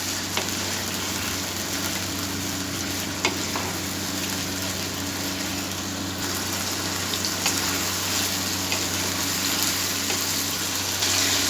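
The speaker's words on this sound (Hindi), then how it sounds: "इसकी बोटियाँ हैं चिकन की वो मैं इस ऑयल में फ्राई करूँगा। इसको हम अब अच्छी तरह फ्राई कर लेंगे।" Chicken pieces for a masaledar chicken karahi fry in hot oil, giving a steady, close, dense sizzle with faint crackles that runs unbroken throughout, with no talking.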